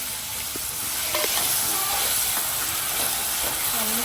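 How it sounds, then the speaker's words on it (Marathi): Finely chopped onion frying in hot oil for mushroom masala makes a steady broadband hiss and sizzle, with faint clinks and bubbling under it. "तेल गरम झालेलं आहे. आता आपण कांदा बारीक चिरलेला टाकून घेऊया."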